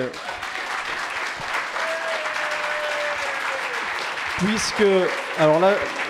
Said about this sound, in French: je vois qu'il y a beaucoup de gens qui applaudissent